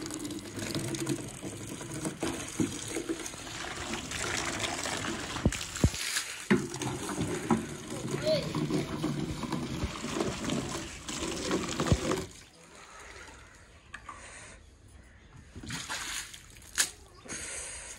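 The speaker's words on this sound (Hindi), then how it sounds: "अच्छा पहले मोटर से निकलेगा ठंडा पानी" An electric motor pump at a new house under construction gushes cold water in a steady, rushing splash for about twelve seconds, then the flow cuts off, leaving quieter intermittent sounds.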